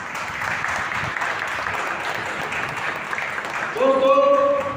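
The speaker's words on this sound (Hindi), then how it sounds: "उनके लिए एक जोरदार तालियां।" An indoor hall crowd at a leadership training event breaks into loud, dense applause that holds steadily throughout, with a voice speaking over it near the end.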